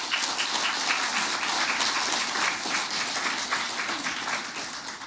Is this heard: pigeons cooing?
no